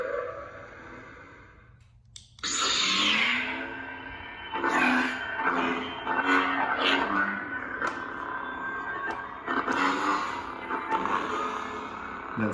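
A custom Corran Horn lightsaber hums steadily and sounds a flash-on-clash effect: bursts of crackling, swooshing electronic noise over the sustained hum, close and fairly loud, with a few further crackles later.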